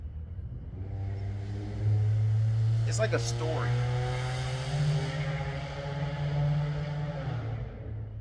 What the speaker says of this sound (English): the car is very slow, but it makes a lot of noise